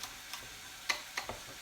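A knife slices spring onion finely on a board: a few quiet, sharp taps spaced irregularly against a faint, hushed background.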